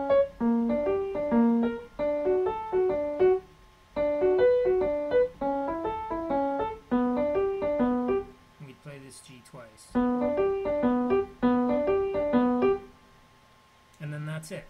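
Piano plays the repeating broken-chord pattern of a song, steady arpeggiated notes in clean phrases with short pauses, solo and close, with a brief voice at the end.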